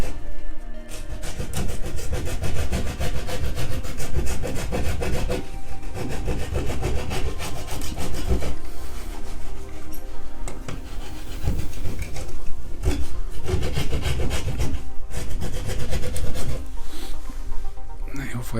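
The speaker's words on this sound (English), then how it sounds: "so it's a bit tight in here and at the top, so I'll just use the rasp" A hand rasp files wood to enlarge a cut hole for a dry lining box. Close, rough scraping strokes repeat in a steady back-and-forth rhythm with brief pauses, loud and continuous.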